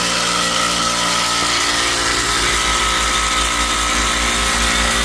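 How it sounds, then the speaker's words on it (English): The outdoor fan motor of a noisy, overheating air conditioner runs with a loud, steady hum. A low, pulsing throb grows stronger partway through, and no one talks. "That's the outdoor fan motor."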